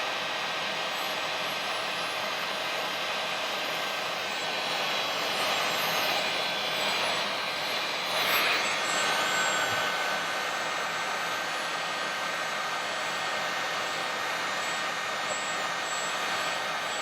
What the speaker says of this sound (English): then you take your heat gun